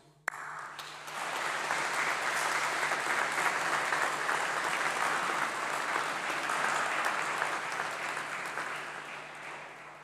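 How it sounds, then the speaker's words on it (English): A large graduation ceremony audience breaks into sustained, full applause for the graduands' supporters, a steady roar of many hands that swells quickly and holds for about ten seconds before easing slightly. "let's give a big round of applause to say thank you to all of your supporters and the people who made it possible"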